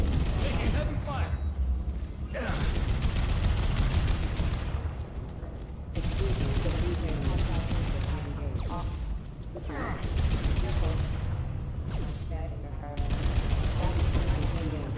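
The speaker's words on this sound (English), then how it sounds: "Taking heavy fire." Heavy gunfire in the PC game Mass Effect 2 Legendary Edition: dense, loud automatic bursts and booms that roll almost without pause, with brief lulls and occasional in-game voices.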